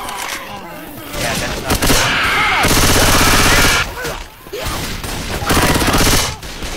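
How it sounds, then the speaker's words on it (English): Rapid bursts of automatic machine-gun fire in a shooter video game, loud and sustained over several seconds with brief pauses between volleys, and voices talking over the gunfire. "Machine gun."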